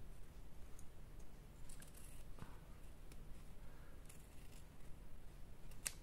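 Scissors snipping through craft material for charm embellishments, a few soft, close cuts at scattered moments over a low steady background hiss.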